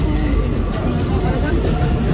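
An R188 subway train on the 7 line rolls along with a steady, loud rumble and rail noise filling the whole stretch, while passengers talk over it.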